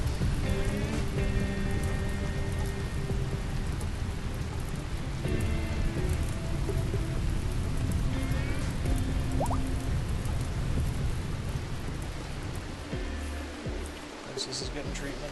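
Steady rain falls in the video game Rimworld, a constant dense hiss that runs the whole time, layered with game sounds and music tones.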